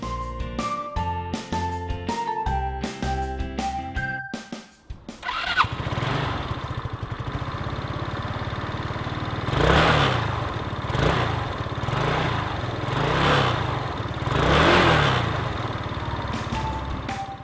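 A Keeway Cityblade 125 scooter engine drones steadily while riding, rising and falling in several long surges of revs; a few seconds of music play before it, with no talking.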